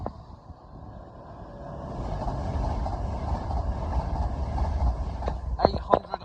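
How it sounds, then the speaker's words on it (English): A passing train on the Great Western Main Line at Ealing Broadway, running from Cheltenham Spa to London Paddington, builds into a steady low rumble and roar with wind buffeting, and sharp clanks and rattles near the end. "here we have a train from Cheltenham Spa to London Paddington"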